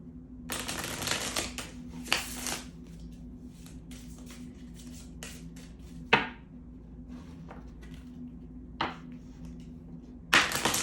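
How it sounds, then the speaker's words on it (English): Oracle cards from a Romance Angels deck are shuffled and drawn in a quiet room, with bursts of riffling and flicking and sharp single snaps near the start, middle and end, fairly close and with no talking. "Now I'm going to pull some from the Romance Angels Oracle deck."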